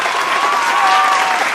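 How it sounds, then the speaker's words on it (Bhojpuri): A Bhojpuri comedy show audience breaks into loud, thick applause, a continuous roar of clapping with a thin whistle-like tone riding through the middle. "तो एक बार जोरदार ताली आप लोग बजाइए।"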